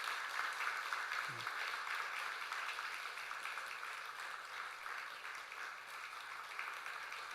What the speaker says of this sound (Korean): 크게 박수로 다시 한번 축하하도록 하겠습니다